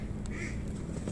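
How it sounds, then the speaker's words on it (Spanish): Ducks on a pond give a couple of brief quacks over steady outdoor background noise, fairly distant and faint. "¡Mira los patos cómo meten la cabeza!"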